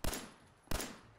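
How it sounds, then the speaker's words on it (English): Gunfire in the video game Fallout 4: two sharp, distinct shots roughly two-thirds of a second apart, followed by the start of a third, fairly faint with a quiet background between them. "The hell are they shooting at?"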